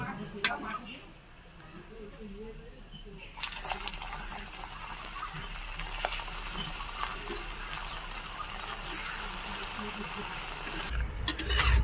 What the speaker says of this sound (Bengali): তো দেখো এইগুলো ভাজা হয়ে গেছে এইগুলো আবার নামিয়ে নেব